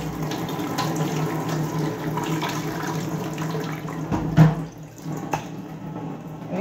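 Water runs from a tap with steady splashing and sloshing as soy protein is rinsed, interrupted by a few knocks and clatters of handling nearby.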